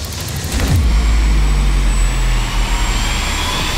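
Leonardo AW139 helicopter taking off into a hover at 50 feet, a loud steady rotor and turbine roar with a low throbbing hum and a thin high whine, continuous throughout with no talk.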